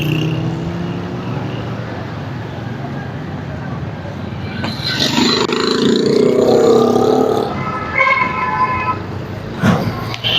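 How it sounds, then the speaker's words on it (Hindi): A loader vehicle drives along a busy road near traffic police control, its engine rising in a loud drawn-out rev with a tonal whine midway, among surrounding traffic noise and brief voices. "अब ये लोडर इस तरफ लाया जा रहा है।"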